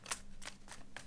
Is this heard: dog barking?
no